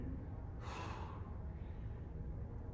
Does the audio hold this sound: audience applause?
no